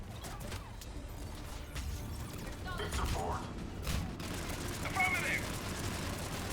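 Gunfire from Mass Effect 3 combat, a steady dense wash of shots and impacts running through the whole stretch with a few sharper bursts, moderately loud with faint talk mixed in.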